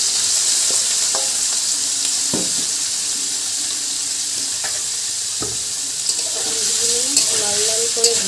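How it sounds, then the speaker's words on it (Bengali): Paneer cubes frying in hot oil in a wok, a steady close sizzle running throughout with occasional clinks and scrapes of stirring, with no talking. "কড়াইতে তেল গরম হয়ে গেছে, এবার আমি পনিরগুলো ভেজে নেব।"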